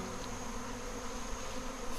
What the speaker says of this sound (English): I'm just having a swarm land in a hive that absconded recently